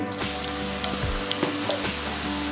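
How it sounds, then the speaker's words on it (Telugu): Ridge gourd (beerakaya) pieces go into hot oil in a kadai and fry with a continuous loud, close sizzle, dotted by a few soft stirring knocks and an underlying low hum, with no speech. "నూనె వేడెక్కిన తర్వాత బీరకాయ ముక్కలు వేసుకోవాలి."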